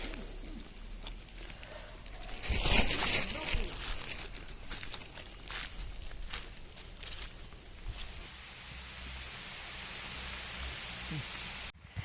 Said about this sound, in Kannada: ಈಗ ನೋಡಿ ಫ್ರೆಂಡ್ಸ್ ಮಳೆ ಬೇರೆ ಸ್ಟಾರ್ಟ್ ಆಗಿಬಿಡ್ತು